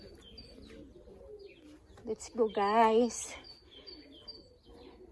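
Pigeons cooing inside a large pigeon house, one clear warbling coo standing out briefly among faint chirps, with a person talking quietly around it.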